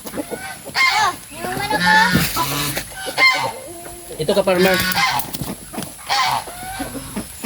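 Ducks and drakes of several colours call in a backyard farmyard, giving repeated nasal quacks and honks among other fowl, close by, with someone talking and laughing over them.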